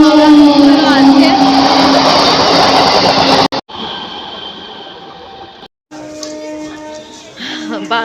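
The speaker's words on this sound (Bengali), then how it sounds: "এদিকে একটা ট্রেন আসছে, থ্রু ট্রেন, সাথে 2 নম্বর প্ল্যাটফর্মে থ্রুটা যাচ্ছে" A through train roars past a railway platform, a loud sustained rumble and rush that fills the first few seconds and then cuts off. Station noise and announcement-like tones follow, with voices in the background.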